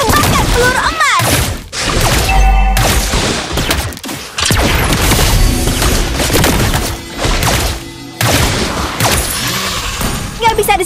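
Layla's golden bullet shots in the Mobile Legends mobile game, heavy rapid gunfire and booming impacts packed into a loud, chaotic battle mix with brief drops between volleys.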